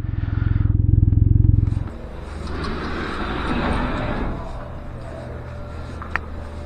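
A Can-Am Ryker three-wheel motorcycle parked at an ice hockey rink, its loud close idle rumble cutting off after about two seconds, followed by quieter ambient noise and faint clatter.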